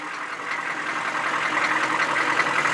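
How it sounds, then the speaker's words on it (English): A 2012 Peterbilt truck with a 485-horsepower Cummins ISX engine running: a steady, close mechanical drone with a broad, even roar and no speech. "There's the engine."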